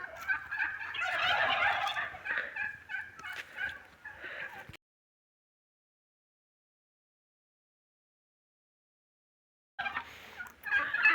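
Turkeys gobble loudly and close in a village yard in Qabala, a rolling burst of overlapping gobbles, then several seconds of silence before the gobbling starts again.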